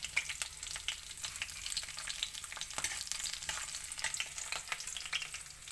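Cumin seeds and garlic frying in oil in a pan, a steady close sizzle with crackling pops running throughout and no voices.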